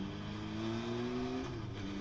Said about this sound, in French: je voulais juste tester les freins pour voir ce que ça donnait